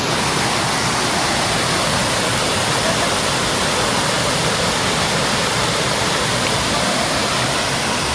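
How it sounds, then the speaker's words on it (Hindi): A tall roadside waterfall on a Kolkata to Goa road trip, with heavy water flow: a loud, steady, close roar of rushing water filling the whole clip with broadband hiss and no voices. "right now we are in front of this waterfall"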